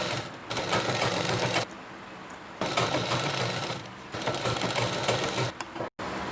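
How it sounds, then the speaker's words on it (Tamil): A sewing machine stitches the edge of a chudidhar pocket in three bursts of rapid, close, steady whirring, separated by short pauses. "இந்த ஓரத்தை நீங்கள் மடித்து இது மேலே நீட்டாக அப்படியே ஓரத்தில் தைச்சிடுங்க"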